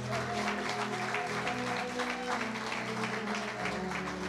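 A church congregation applauds steadily during a French-language Christian sermon, a dense continuous clapping that holds at an even level throughout, with sustained musical tones running underneath.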